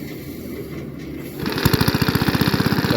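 A small rice harvesting machine engine idles low, then from about halfway revs into a loud, fast, steady pulsing chug, close by, with no talking.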